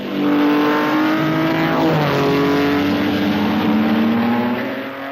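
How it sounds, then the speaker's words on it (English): A 1950s Formula 2 race car with a Maserati engine roars close by, its pitch rising and falling through gear changes as it passes, loud and sustained, with another engine note audible beneath. "This 1953 Formula 2 race has the new 250F Maserati, driven by Gonzalez"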